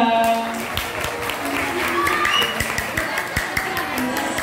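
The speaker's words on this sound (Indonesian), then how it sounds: "Tepuk tangan untuk kelas 9." Junior high school students applaud for the ninth-grade class, scattered claps and a light round of applause heard behind a voice speaking over it.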